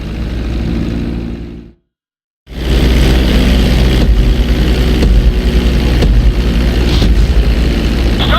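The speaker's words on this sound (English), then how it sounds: "Reducing the plane's altitude gradually so you're just above the runway as you approach" Airplane engine in GTA 5 approaching a runway to land, a loud steady roar that drops out briefly for under a second, then returns strong and continuous.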